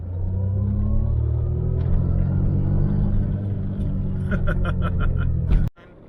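Turbocharged 1980s–90s hot hatch accelerating, a loud, close engine drone with rising harmonics that builds steadily for over five seconds before cutting off abruptly near the end.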